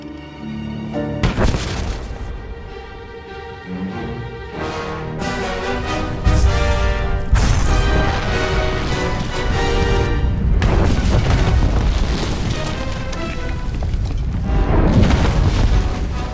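A heavy explosion in Star Wars: The Old Republic video game, deep booming blasts and rumbling layered under loud dramatic orchestral music, building and sustaining across the whole stretch without speech.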